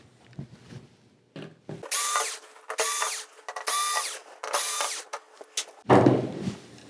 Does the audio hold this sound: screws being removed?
yes